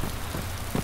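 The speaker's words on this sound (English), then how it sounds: "Oh no, it started raining again." Steady rain falls in the survival video game DayZ, a dense and unbroken hiss of drops on surfaces with no other sounds standing out.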